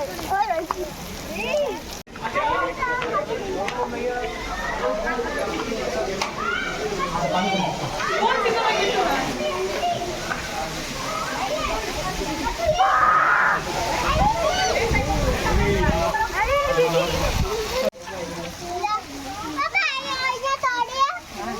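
Water sloshes and splashes nearby at Fateh Sagar Lake in Udaipur while children chatter and play over it, with a brief tonal squeak midway.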